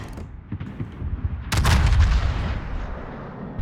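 Battleship rear turret guns firing in World of Warships, aboard the Musashi: a sudden loud blast midway, preceded by faint rumbling, with a long booming roll that slowly fades.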